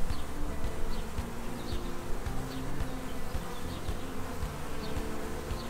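Honeybees hum in a dense, steady drone throughout a spring beehive inspection, the buzzing close and continuous, with no talking over it.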